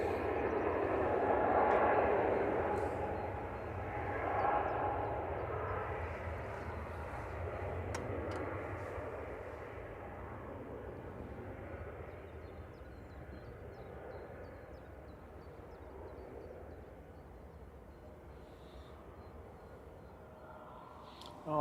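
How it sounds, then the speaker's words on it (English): A Lufthansa airliner departs Manchester Airport bound for Munich, its jet engine roar loudest early and then fading slowly into the distance, with brief voices in the background. "Lufthansa heading back to Munich with flight 2501."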